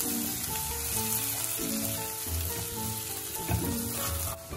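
Chopped plantains frying in ghee in a heated clay pot, a steady crackling sizzle with occasional stirring scrapes, close and fairly quiet, no one speaking.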